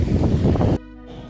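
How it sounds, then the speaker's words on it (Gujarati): Strong wind gusts across an open farm field where irrigation water is running, roaring steadily against the microphone for under a second before cutting off abruptly. "પવન પણ બહુ આવે છે"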